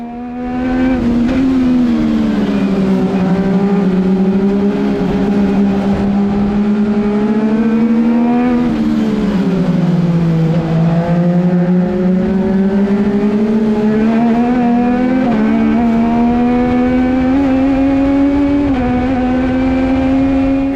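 Legend race cars roar continuously close by on a track, engines rising and falling in pitch as they accelerate and shift, loud and sustained with no talking.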